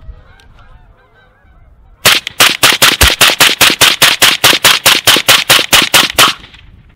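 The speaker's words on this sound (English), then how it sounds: "we'll dump another mag through here and let it run" Suppressed Bushmaster ACR rifle with an AAC M4-2000 silencer firing a magazine in rapid semi-automatic succession, about twenty loud, evenly spaced cracks after a quiet lead-in, close to the microphone.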